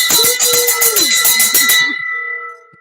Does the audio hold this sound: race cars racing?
no